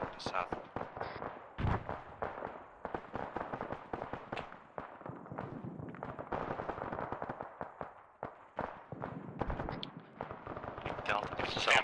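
Heavy machine gun fire in Arma 3, bursts of sharp rapid shots and scattered distant gunfire crackling steadily through the whole stretch, with radio-style voices at times.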